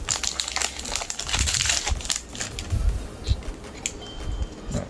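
A Pokemon card booster pack wrapper being torn open by hand, a few seconds of crisp crinkling and crackling foil over a low background rumble, with no talking.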